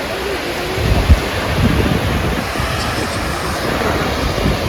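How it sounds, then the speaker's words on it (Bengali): Sea surf rolls onto the beach at Henry Island near Bakkhali, a steady, broad, loud wash of breaking waves with heavy wind buffeting the microphone. "এই হলো সমুদ্র এখানকার হেনরি আইল্যান্ডে"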